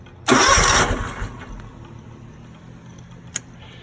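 A Scag 52-inch stand-on mower engine cranks and catches with a loud burst, then settles into a steady low idle; a brief sharp click follows later.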